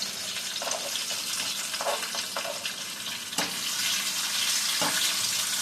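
Zucchini cooking in a pan gives a steady, close sizzle and hiss with a few faint soft clicks. No voices are heard.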